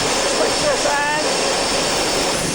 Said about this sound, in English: The engines have stopped, but just the power unit producing that noise.